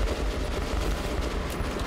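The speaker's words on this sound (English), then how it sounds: "Just constant gunfire." Dense, continuous automatic gunfire fills a firefight in the video game Metro Last Light, with rapid overlapping shots and explosions forming a loud, unbroken roar and no pause.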